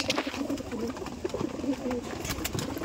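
Domestic pigeons kept in a home loft coo in repeated soft, throaty bursts close by, a continuous murmur of several birds with no voices.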